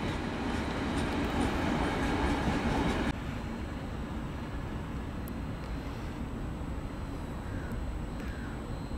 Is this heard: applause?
no